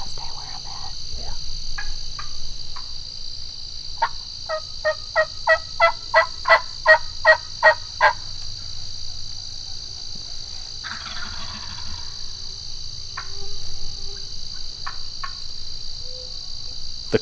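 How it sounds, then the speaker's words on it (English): Osceola wild turkey hens cluck and yelp outdoors, a clear series of rhythmic yelps building in the middle amid scattered clucks, over a steady background of insects buzzing. "The clucking and yelping that you're hearing is hens."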